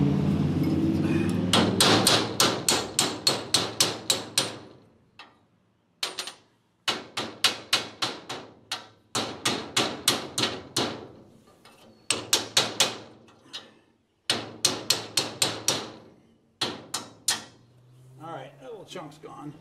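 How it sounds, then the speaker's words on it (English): A hammer drives a sharpened cold chisel into old trailer steel, giving loud, close, ringing metallic blows in quick rhythmic bursts of several strikes, separated by brief pauses. "I got me an old sharpened up cold chisel here."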